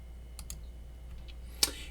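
Keyboard typing and a mouse click at a computer while searching census data: a few soft, spaced key taps early on, then one sharper, louder click near the end over faint room hum.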